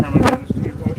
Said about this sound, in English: You got bees stinging that microphone,